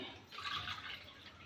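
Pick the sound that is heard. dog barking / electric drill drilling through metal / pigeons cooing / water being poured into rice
water being poured into rice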